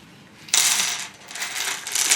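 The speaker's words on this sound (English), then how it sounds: "go through the screw box and find the right size" Metal screws rattle and clink as a hand rummages through a box of self-tapping screws, with bursts of jangling that fade and then pick up again, close and fairly loud.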